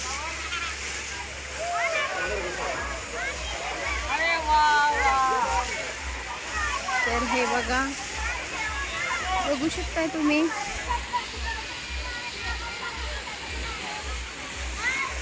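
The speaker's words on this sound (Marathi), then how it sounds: "तर हे बघा स्विमिंग पूल, इथे खेळतात सगळे, पाण्यामध्ये उतरले" People splash and play in a crowded water park swimming pool, a broad wash of sloshing water and distant voices, with someone talking close over it and a low rhythmic thump underneath.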